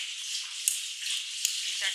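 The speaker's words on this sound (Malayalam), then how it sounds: "ഇങ്ങനത്തെ ഒരു നെയ്യ് എടുത്തിട്ട് ഞാൻ ചട്ടി ചൂടായതിന് ശേഷം അതിലേക്കിട്ട്" Ghee dropped into a well-heated pan sizzles with a steady bright hiss, close and moderately loud, with a couple of brief sharper crackles along the way.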